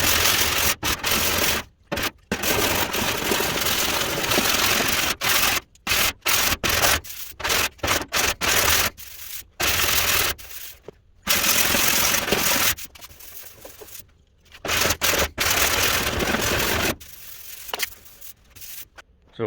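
A hand file rasps over the sheet metal of a classic truck fender in long repeated strokes, loud and close, broken by short pauses between passes, with no talking.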